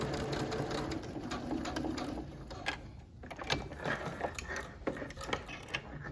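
A home sewing machine runs a straight stitch on a fabric face mask with elastic, a fairly quiet, near mechanical whir with quick needle ticks and brief pauses, no talking.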